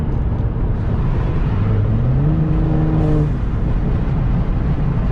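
Turbocharged car engine fitted with a Turbo Smart blow-off valve, heard from inside through an open window: a loud steady drone with a rising rev tone, then a short sharp hiss as the valve vents.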